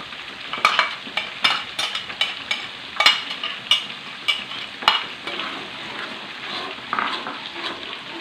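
Dried blended chili being stirred and fried in a pan for quail sambal kecap, with a steady sizzle broken by repeated sharp scrapes and clinks of the spatula against the pan.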